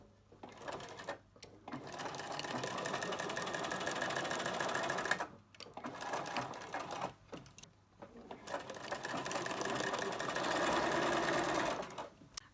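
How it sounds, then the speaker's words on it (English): A sewing machine runs in long steady bursts, stitching a 1 cm seam along the short ends of a raglan dress, with brief pauses between runs; close and fairly loud, no talking. "we're going to just sew up the short ends"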